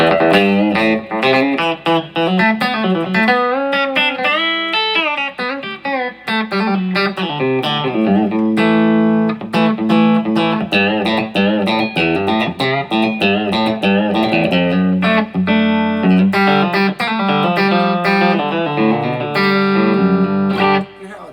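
Electric guitar played through a Telecaster bridge pickup into a '68 Deluxe reissue amp with spring reverb, a continuous run of picked notes and chords with a warm low end and biting upper mids, loud and solo with no talking.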